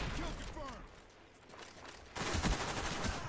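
Akimbo Scorpion submachine guns fire in Black Ops, heard as a dense, loud burst of rapid gunfire in the second half. A voice speaks and mechanical rattles sound before it.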